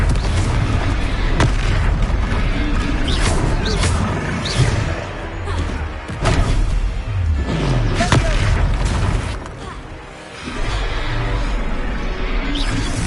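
The Confringo fire spell explodes in Hogwarts Legacy as repeated loud booms and blasts over a dense, roaring game soundtrack, with occasional voices from the game.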